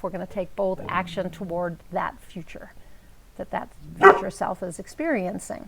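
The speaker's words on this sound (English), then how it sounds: "So I apologize for my puppy barking." A small puppy barks and yips in short bursts behind steady talk from a speaker indoors, the sharpest yelp landing midway.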